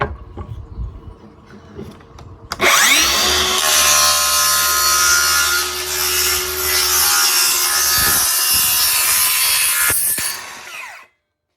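A power saw with a thin blade trimming a minute strip off a wooden edge, a loud sustained whining cut that starts abruptly after some quieter handling noise and stops sharply near the end.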